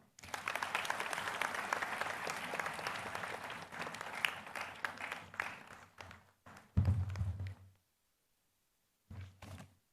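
Audience in a convocation hall at AIIMS Jodhpur claps steadily, a dense fairly distant applause that thins out and stops, followed by a few isolated thumps and door-like knocks.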